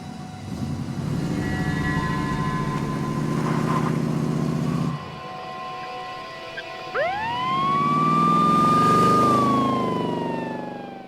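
An emergency vehicle siren whoops up and then holds a long wailing tone, loud and close, following a stretch of rumbling traffic-like noise.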